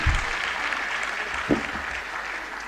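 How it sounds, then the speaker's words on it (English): An audience at an annual university lecture gives a sustained round of applause, a dense even clatter of many hands throughout, with a brief thump partway through. "please let's give them a round of applause as well"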